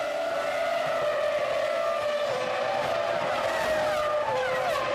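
Formula 1 cars, including a Ferrari and two Williams, scream past at a race start, a dense, continuous roar of high-revving engines with shifting pitches, fairly loud and steady throughout.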